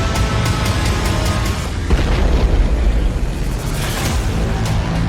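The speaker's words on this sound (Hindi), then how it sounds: "रूस की मिसाइल एक चलती कार के ठीक सामने आकर गिरी।" A Russian missile strikes a road among moving cars, producing a loud, dense roaring blast with rumbling low booms and crackling debris that sustain throughout.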